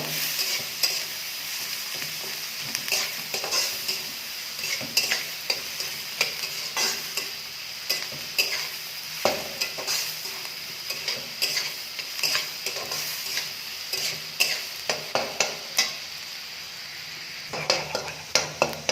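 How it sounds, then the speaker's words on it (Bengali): Chopped vegetables and green chilli sizzle in a pan for egg chow mein, with a continuous fry hiss broken by frequent sharp scrapes and clinks of the spatula stirring, and no voices. "এই সবজিটা ভালো করে ভেজে নিতে হবে।"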